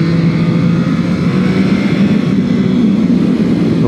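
A Triumph Trident 660 motorcycle engine pulls steadily while being ridden through curves, a loud, continuous droning growl with a low rumble and wind rush that hold an even level throughout.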